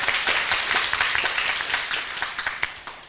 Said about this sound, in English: we can clap, yeah